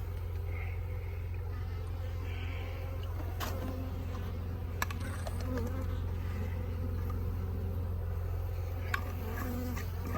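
A nuc package of honeybees from Stanwood Bee Company gives off a steady, dense buzzing hum that carries on without a break, with a few faint clicks and taps over it.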